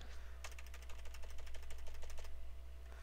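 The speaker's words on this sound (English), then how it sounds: "Every time I'm pressing that keyboard," Computer keyboard keys pressed in a rapid burst of clicky strokes over a steady low electrical hum, with no talking.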